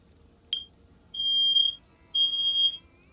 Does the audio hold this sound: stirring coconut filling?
no